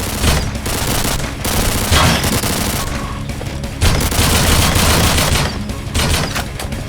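Gunfire in the horror shooter game Slendytubbies rattles in loud, dense bursts, one volley after another, with heavy booming shots throughout and almost no pauses.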